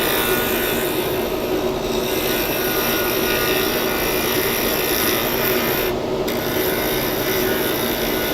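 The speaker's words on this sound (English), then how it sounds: "We're gonna wet sand it." Wet sanding on a lathe against a spinning salt-and-resin blank produces a steady, close, gritty rubbing hiss that continues without a break and has no talking over it.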